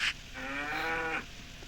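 A cow in the farming game Harvest Moon 64 gives one drawn-out moo of about a second, clear and close, with a short sound effect just before it.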